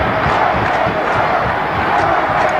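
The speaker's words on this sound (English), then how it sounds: "listen to this crowd, Lindsay. They're going wild here" A football crowd of New Orleans Saints fans at a 1980 game against the Vikings roars wildly in a dense, loud, continuous wall of cheering and yelling.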